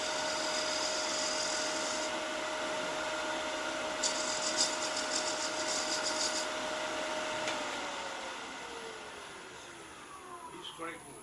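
Wood turning on a lathe while a chisel scrapes the spinning workpiece, a steady rough whir and hiss with the motor's hum, a brief brighter scraping stretch midway, then the lathe slowing and winding down.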